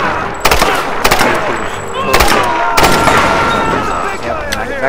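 Gunfire in the video game Tomb Raider, several sharp shots and short bursts at irregular intervals, loud and close over continuous game background noise, with a voice talking under it.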